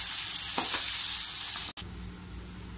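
Tomatoes and other vegetables for capsicum chutney sizzle steadily in a pan with a few soft stirring knocks, close and loud; a brief dropout cuts the sound midway before the frying hiss resumes, quieter.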